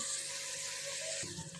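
Whole cardamom pods frying in hot oil for a mutton korma, a steady bright sizzle with a brief clatter near the end as something shifts in the pan.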